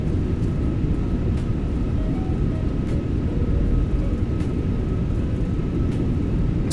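Fenix A320 rolling out after landing in Microsoft Flight Simulator with thrust reversers deployed and heavy braking, a loud, steady broadband engine roar with a low rumble and faint whine, continuous for several seconds without speech.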